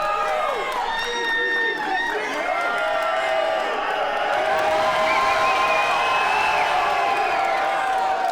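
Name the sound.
crowd cheering at a slap fighting match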